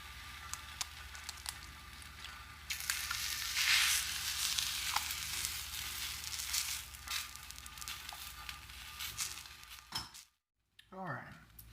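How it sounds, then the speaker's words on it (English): Eggs frying on a Lodge cast iron griddle alongside toasting food, a soft steady sizzle under quiet nearby talking, with a few small scrapes and taps and a brief silent gap near the end. "I go ahead and drop an egg in these jokers."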